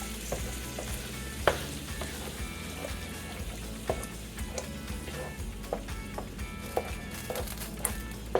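Meat sauce with ground beef being stirred in a pan, a continuous sizzle with repeated spoon scrapes and knocks against the pan, close and fairly steady, no talk.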